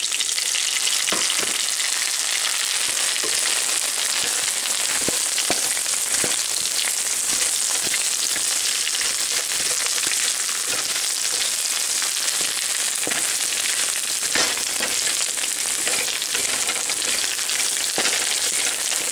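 Rice vermicelli fries loudly in a pan for upma, a continuous crackling sizzle with scattered sharp pops and stirring clicks, heard close and without any voices.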